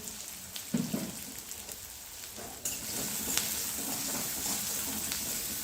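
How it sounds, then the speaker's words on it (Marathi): Finely chopped onion sizzling in hot oil with popped mustard seeds and cumin, a steady close frying hiss with a few louder bursts and spatula stirs, for a village-style dry wild mushroom bhaji. "थोडे जिरे टाकून घेऊया आणि एक बारीक चिरलेला कांदा यामध्ये टाकायचा आहे"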